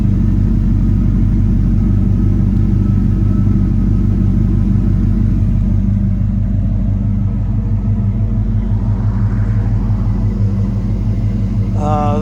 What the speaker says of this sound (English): Dual exhaust.